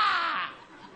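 A human voice imitates a crow's caw in a French puppet show, one loud, drawn-out, raspy call that fades away within about half a second.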